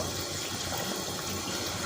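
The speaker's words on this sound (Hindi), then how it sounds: "अभी ये देखिए पानी बॉयल होना शुरू हो गया है" A pot of water coming to a boil for matar pulao gives a steady, dense hiss and bubbling, constant and close throughout with no voices.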